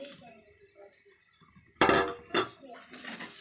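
Metal spatula scraping and clanking against a pan while stirring egg parotta, a few loud bursts after a quiet simmering start.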